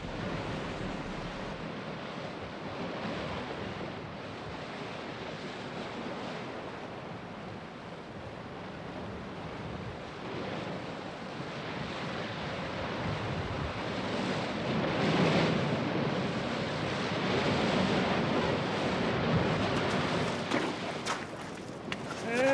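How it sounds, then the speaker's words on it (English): Sea waves roll in on a rising tide along a shore, a continuous surf wash with gusts of wind buffeting the microphone, swelling louder toward the end. "the tide is rising pretty fast"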